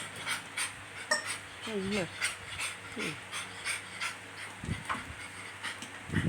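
A dog pants close by in quick, rhythmic breaths that run steadily throughout, while a voice briefly makes short sounds in the background.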